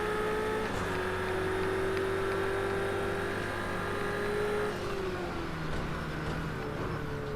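Race cars, including Ford GT-class machines, drone steadily through a racing video game, a continuous engine whine with shifting pitch heard at moderate level and without talk.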